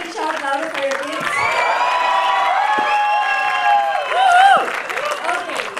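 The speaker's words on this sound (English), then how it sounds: "we need some more cheering like that from all of you" An audience at a Montessori school concert cheers and whoops loudly for the children performing, a dense burst of crowd shouting and high voices that swells near the end.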